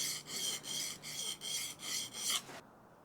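A plane blade rubs back and forth on a sharpening stone while being honed, making six steady rasping strokes, close and fairly loud, before the scraping stops abruptly into near silence.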